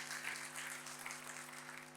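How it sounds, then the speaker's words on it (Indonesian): Steady applause from a church congregation, a dense continuous patter of clapping heard at a moderate distance, with a low hum underneath. "Tepuk tangannya sekali lagi yang paling meriah buat Tuhan kita"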